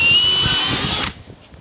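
A power drill with a 1/8 bit bores through wooden decking on a Harbor Freight 5x10 trailer: a loud, steady high whine for about a second, then it cuts off, leaving a few faint clicks.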